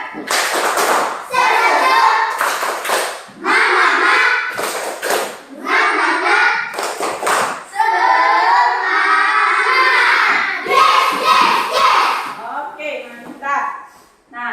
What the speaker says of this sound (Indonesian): Akhirnya kita tepuk semangat dulu supaya lebih semangat.